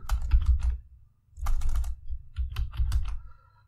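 Bursts of typing on a computer keyboard while entering a commit message for a GitHub repository, close and clear keystrokes in three quick clusters separated by short pauses, with no talking.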